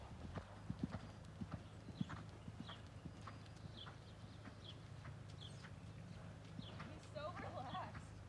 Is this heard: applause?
no